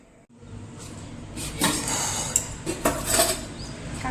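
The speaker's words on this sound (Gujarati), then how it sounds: "વાસણ ગોઠવવાના છે આપણે તો એક એક કરીને ચલો ગોઠવી દઈશું." Kitchen utensils are set in place one by one, giving close metallic clatters and clinks that grow busier toward the end, with no talking.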